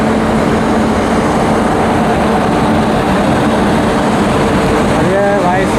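A special train hauled by a locomotive runs past, a loud, unbroken rumbling roar that fills the whole stretch at close range.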